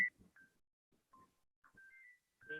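A phone gives off several short, sparse electronic beeps and tones, close and fairly quiet, with brief murmurs between them.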